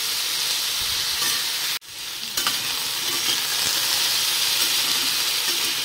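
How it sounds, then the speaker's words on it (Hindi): Potatoes fry and are stirred in a hot pan, a loud steady sizzle broken by a brief pause and a clatter of stirring, with no talking. "यहाँ पे मैं आलू ऐड कर दी हूँ, इसे मिक्स करूँगी"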